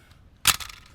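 A Praktica LLC M42-mount film camera body fires its shutter once during a shutter test, a single sharp mechanical snap close up, followed by a brief rattle and then near silence.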